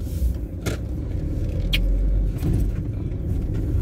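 A car drives along a road, with a steady low engine and tire rumble close by, interrupted by a few brief sharp clicks and rattles from inside the cabin, no talking.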